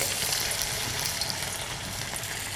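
Veg manchurian balls fry in hot oil with a steady, dense sizzle and crackle throughout, close and even, with no talk over it.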